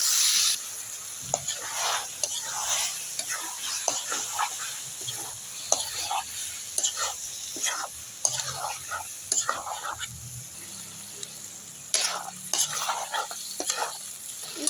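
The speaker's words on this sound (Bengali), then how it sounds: "তো কষানো হচ্ছে।" Duck meat with spices sautéing in a pan on a clay stove, a steady close sizzle with repeated scraping stirs and clinks running throughout, and a dog barking faintly in the background.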